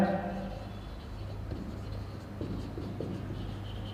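Steady scratchy writing on a board during a maths lesson on derivatives, a soft continuous scraping with small strokes, close and moderately quiet over a low room hum.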